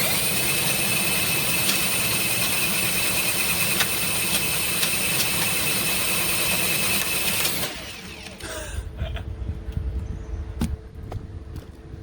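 Ryobi and Popoman drain augers spin together with a steady, loud mechanical whir and high whine for several seconds, then cut out, leaving quieter rattling and handling noise.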